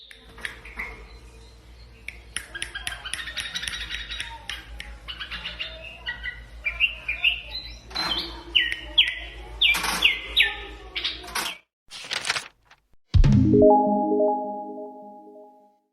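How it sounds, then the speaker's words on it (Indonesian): Black-headed bulbul, the kutilang emas, singing a run of bright chirps and warbled phrases over a low steady hum, closing with a loud harsher note. "Kutilang emas, black-head bulbul, dikenal peneliti burung dengan sebutan kuricang."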